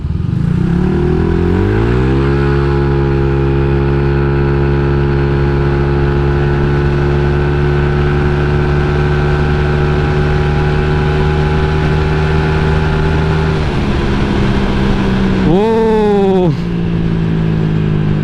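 A Honda Vario 150 scooter with a custom keyless setup idles with a steady engine drone, close and loud, then revs up sharply near the end before settling again.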